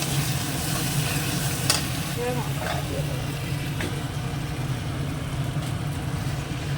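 Meat sautéing with spice masala and Kashmiri red chili in oil, a steady dense sizzle with occasional stirring scrapes, a low continuous hum underneath and a voice talking over it.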